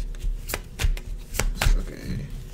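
A deck of tarot cards being shuffled by hand, with rapid riffling bursts and soft slaps repeating in a quick, uneven rhythm, close and alone.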